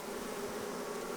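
Bees swarm around an open beehive with fresh yellowing wax in an experimental bee yard, a dense continuous buzzing hum, close and steady throughout with no voices.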